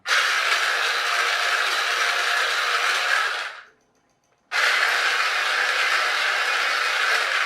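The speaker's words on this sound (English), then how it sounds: "you've got two motors driving, one driving each wheel" Two small electric motors driving the wheels of an old Robot Wars Shunt RC robot whir in a steady, close mechanical whine. They cut out for about a second, then start up again at the same pitch.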